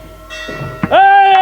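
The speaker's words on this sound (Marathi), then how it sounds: "ते घंटा वाजू नका ना" A bell rings during a comedy kirtan, a Marathi devotional performance. A low murmur comes first, then a sustained, bright ringing tone that holds loud and steady to the end.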